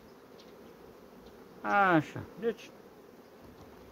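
Honey bees from a small, struggling spring colony hum in a low, steady drone close by, while a voice briefly speaks over them partway through.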